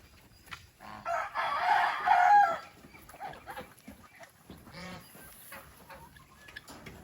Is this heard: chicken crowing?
yes